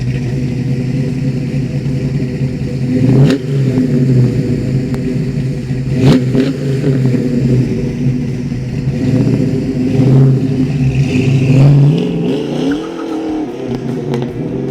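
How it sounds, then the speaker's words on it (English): A 1965 Ford Mustang 2+2 at a classic car dealership rumbles loudly up close, its engine idling with a deep steady growl and rising in several short revs and throttle blips. "It is a good old-fashioned startup"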